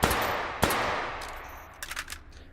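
Five-SeveN pistol shots fired in the H3VR video game: two sharp, loud cracks about half a second apart, followed by fainter metallic clicks and clatter, with no speech.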